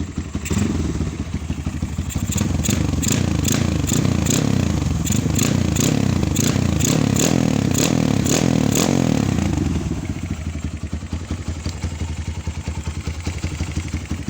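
A Kawasaki KLX 150 motorcycle engine runs steadily close by, a continuous low putter with faint clattering and a few sharp ticks over the top, dropping a little in level near the end.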